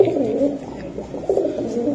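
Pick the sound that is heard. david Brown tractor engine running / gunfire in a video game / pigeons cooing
pigeons cooing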